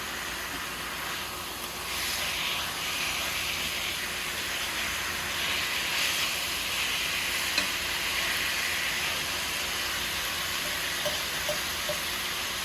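Pork chops fry in a pan with a constant loud, hissing sizzle that stays even throughout, joined by a few faint scrapes and clinks.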